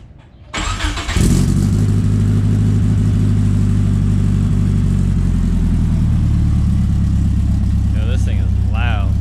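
A 1995 Mitsubishi Eclipse GSX tuned to 800 horsepower fires up and settles into a loud, heavy, rumbling rev that holds steady, with a brief voice near the end.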